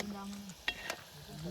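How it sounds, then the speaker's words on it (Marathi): Onion bhaji (kanda bhaji) frying in oil at a campsite during a Harishchandragad trek, a soft steady sizzle broken by a couple of sharp clinks and scrapes, with low murmuring and hum in the background. "तळण्याचा कार्यक्रम चाललाय."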